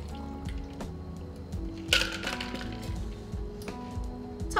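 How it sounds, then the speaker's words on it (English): Cocktail mixture strained from a shaker into a glass filled with ice, giving soft clinks and a wet trickle over a steady low background, with a brighter clatter near the middle. "Strain in your mixture."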